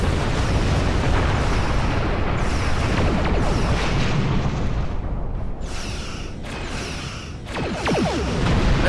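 A starship weapon bolt fires and explodes during a space battle in a video game: sustained loud booming blasts and crashing rumble, easing briefly midway before a fresh burst near the end, with no voices.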